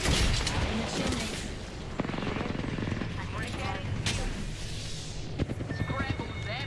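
Gunfire and a thrown frag grenade in the Apex Legends battle royale game, a dense, continuous wash of shots and impacts with a few sharper bangs standing out near the end.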